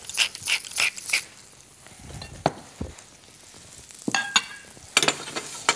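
Mushrooms and sweating shallots sauté in a pan, with bursts of sizzling and sharp scraping and clinking strokes from stirring. Quieter gaps fall between the stirring bursts, and no voices are heard.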